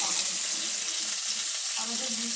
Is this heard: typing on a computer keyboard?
no